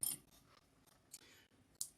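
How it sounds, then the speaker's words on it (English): Scissors snip sewing thread at a sewing machine while a boxy zippered bag is made, giving a few short, quiet clicks spread across a brief, otherwise hushed moment. "I gotta clip my thread."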